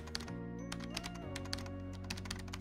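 Keys on a computer keyboard are pressed in a quick, uneven run of light clicks while a script name is entered in Home Assistant, with a low steady hum beneath.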